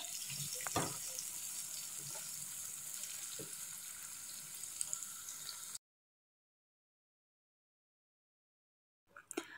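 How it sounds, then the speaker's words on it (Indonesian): Sliced shallots sautéing in a pan make a faint, even sizzle with a few soft clicks from stirring. The sound cuts to silence partway through, then briefly returns. "Kita tumis sampai layu aja atau sampai harum ya."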